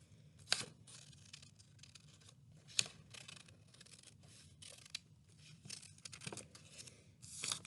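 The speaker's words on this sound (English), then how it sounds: "after you color it in, you cut it out along the circle" Scissors cut out a coloured paper circle for a popsicle stick puppet craft, giving quiet, sparse snips and paper rustles with a few sharper clicks of the blades in a still room.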